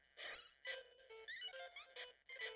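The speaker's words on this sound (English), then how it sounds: "Enemies also go squeak when they hit you." Enemies in the Game Boy Color game Armorines: Project S.W.A.R.M. squeak as they attack, producing a run of quiet, chirpy bursts of high, warbling squeaks in an uneven rhythm.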